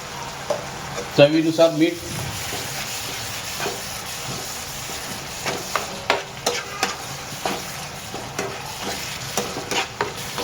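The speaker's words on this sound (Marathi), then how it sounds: "आणि आता आपण सर्व मसाले टाकूया।" Spices being fried in a pan for a dry egg masala: a steady low sizzle with scraping stirs and a brief louder burst early on, then a run of soft, rhythmic clicks of the spatula against the pan.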